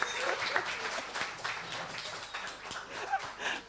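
Applause from a small audience at a community creativity evening in Erdington, fairly quiet and uneven clapping with scattered individual claps that rises and dips over a few seconds.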